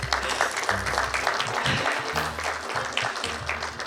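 Audience applause at a cooking competition final, a steady wash of clapping with low rumbling voices and chatter mixed underneath.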